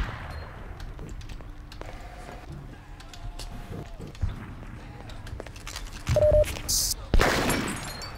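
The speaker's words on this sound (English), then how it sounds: "They're shooting at me." Enemy gunfire in the Half-Life 2 mod DayHard, bursts of rapid shots crackling over game ambience and footsteps, growing louder toward the end.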